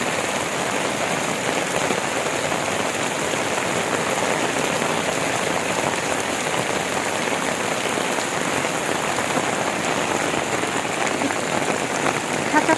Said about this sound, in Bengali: বৃষ্টিটা উপভোগ করছে।